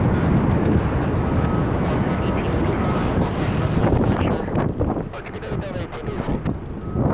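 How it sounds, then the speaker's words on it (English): A Southwest Boeing 737 departs LAX for Las Vegas, its jet roar loud and steady, then thinning out amid wind buffeting on the microphone. "Let's get that 737 Southwest."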